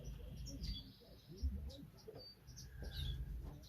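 Small birds in a blackbird aviary shed chirp and tweet sporadically, thin calls scattered over low rumbling handling noise, with faint voice beneath.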